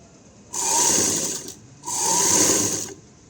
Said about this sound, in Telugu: ఆ కుట్టు మీద ఒక స్టిచ్చింగ్ అయితే వేయాలి